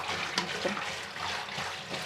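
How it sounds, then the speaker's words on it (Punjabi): Cold water is poured over boiled pasta, a close, steady splashing gush with a few gurgling surges, moderately quiet and without talk. "ਹੁਣ ਆਪਾਂ ਇਹਦੇ ਸਾਰੇ ਤੇ ਠੰਡਾ ਪਾਣੀ ਪਾ ਦਈਏ"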